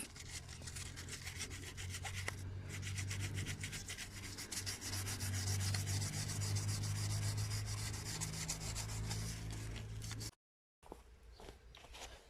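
Steady rhythmic rubbing and scraping of 400-grit wet sandpaper against the edges of a wheel rim, close and continuous, briefly cutting out near the end before resuming.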